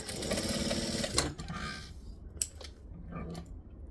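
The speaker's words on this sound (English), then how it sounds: "I'm going to top stitch on both sides purely to hold that seam open" A sewing machine top stitches along both sides of an open seam on a bag add-on with a D-ring, running steadily for about a second, then giving shorter bursts. It is close and fairly loud, with no talking.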